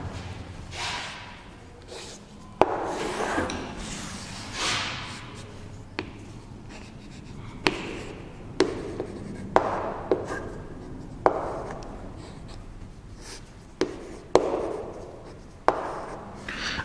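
A pen writes an answer by hand on paper during a chemistry numericals lesson. Close, scratchy strokes come in bursts, punctuated by sharp taps and pauses, with no talking.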